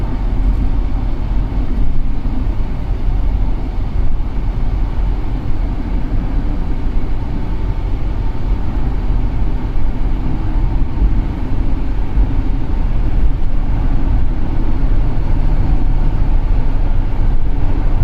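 Interior drone of a 2008 Cadillac SRX with the 3.6L AWD engine, which has a misfire fault, while being driven: a steady low rumble of engine and road noise, continuous and fairly loud, with no voices.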